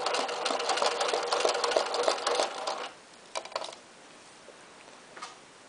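Sewing machine doing free machine embroidery, a steady fast needle whir for about three seconds, then stopping, with a few short bursts of stitching afterward.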